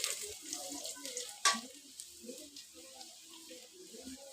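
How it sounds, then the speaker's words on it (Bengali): Chopped onions fry in mustard oil in a wok with bay leaf, giving a soft, steady sizzle and one sharp clatter midway, with faint murmuring beneath. "এই দেখুন পেঁয়াজগুলো ভেজে নিচ্ছি"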